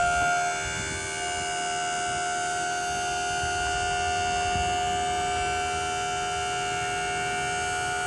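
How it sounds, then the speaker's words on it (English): A hydraulic pump on a Sure Trac 6 x 12 dump trailer drones steadily while raising the bed, a strained, continuous whine with a fixed pitch and a rough motor rumble beneath it, close and unbroken with no talk. "So going up, it does sound like it's working hard"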